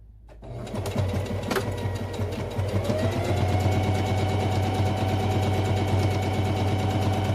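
A sewing machine stitches a seam across the top of a fabric pouch at a quarter-inch width, starting abruptly and running in a fast, steady mechanical whirr with rapid needle clatter.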